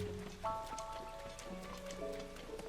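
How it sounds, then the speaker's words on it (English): Steady rain falls at an early-morning hour in The Legend of Zelda: Tears of the Kingdom, a soft continuous patter with faint tonal game music drifting underneath, quiet throughout. "So it's 5 a.m. and it's still raining."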